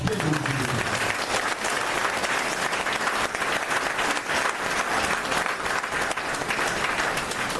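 Guests at an anniversary celebration ceremony are greeted with sustained applause from a large audience, a dense even wash of clapping that holds steady throughout.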